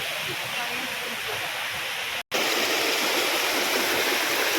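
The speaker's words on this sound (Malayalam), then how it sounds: "വെള്ളം വെള്ളച്ചാട്ടം കഴിഞ്ഞ് വന്ന വെള്ളമാണ് കാണുന്നത്" Rushing water of a stream below Shoolam Waterfalls in Maradi, Kerala, pours steadily nearby, a loud broadband hiss broken only by a brief cut midway.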